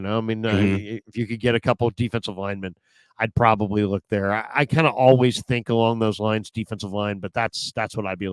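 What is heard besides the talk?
No everyday noise stands out behind the speech.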